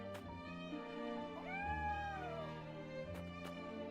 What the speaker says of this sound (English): Talk to the kitty.